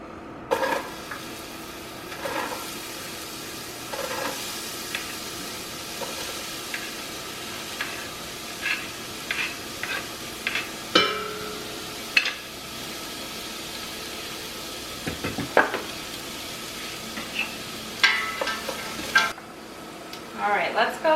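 Onions sizzle in a pot of oil as the base for a cabbage soup, a steady fry under repeated scraping and stirring strokes and occasional clinks of a utensil against the pot, close and moderately loud.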